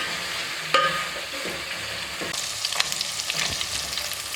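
Beef pieces sizzle and fry in a pan for beef pilau, a steady close crackle broken by occasional scrapes and knocks as the meat is turned.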